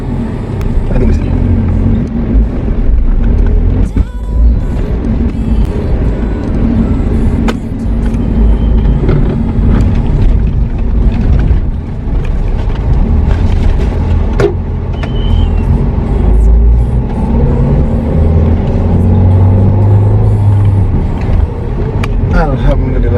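Car engine labouring continuously up a steep road toward Cibeureum beach camping in Serang, Banten, with a loud, rough, steady drone and rumble throughout, occasional knocks, and people talking inside.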